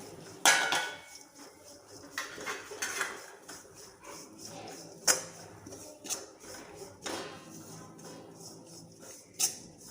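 A spoon repeatedly scrapes and clinks against a pan as a jaggery and coconut laddu mixture with cardamom is worked together, giving irregular metallic knocks and clatters, with a few sharper strikes standing out close by.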